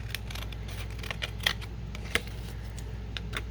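Scissors snipping through paper cards, sparse crisp clicks and two sharper cuts stand out over a steady low hum, close and fairly quiet with no one talking.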